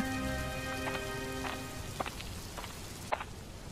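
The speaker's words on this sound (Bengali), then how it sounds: "কি হে তপন, এই বৃষ্টির মধ্যে কোথায় চললে ভায়া?" Cartoon rain falling, a soft continuous patter with a few brighter drips, quiet and steady, while a tonal hum fades out in the first two seconds.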